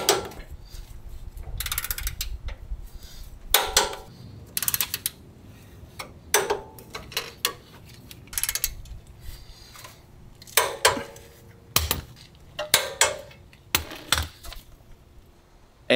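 A Total Chaos lower control arm is hammered into a second-generation Toyota Tacoma's front suspension: a string of sharp metallic whacks and clanks in irregular bursts, close and loud, with quiet pauses between strikes.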